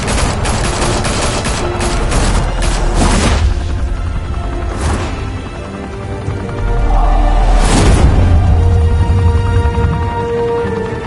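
Gunfire erupts in Telltale's Batman as men open fire at a high-rise mafia club: a loud, dense fusillade of overlapping shots and booms, with a second heavy volley a few seconds later.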